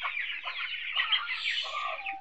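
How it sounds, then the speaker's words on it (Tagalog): Native chickens cluck in a continuous, close run of short calls beside a flooded house in the Agusan Marsh after a storm, with no other sounds competing. "Mayroong Bisaya na manok."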